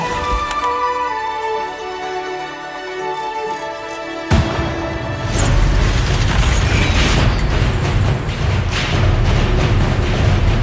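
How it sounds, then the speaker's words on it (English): Fireworks burst during the Overwatch Year of the Rooster event, a loud boom hitting after a stretch of musical game sound, then a dense crackling, popping barrage that keeps going over the rest. "Who's ready for some fireworks?"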